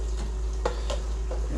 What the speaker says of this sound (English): Just kind of stir that in.